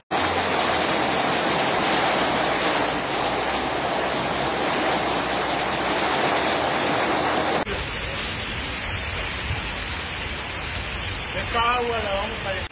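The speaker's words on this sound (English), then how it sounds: "Major flooding occurred in Ciudad del Carmen as a result of heavy rainfall in Mexico." Floodwater rushes through Ciudad del Carmen, Campeche, Mexico after heavy rainfall, a loud broad steady roar of flowing water that changes character partway through, with speech heard over it.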